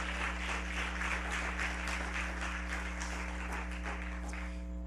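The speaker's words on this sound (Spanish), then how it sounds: "¿Cuánto dan un aplauso por la persona de Cristo?" Congregation applauding inside a church during a sermon, a steady dense wash of clapping held at even loudness over a low electrical hum, no talk over it.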